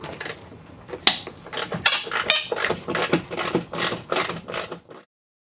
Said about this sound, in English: Now we're going to take out the bolts that hold the bumper cover in.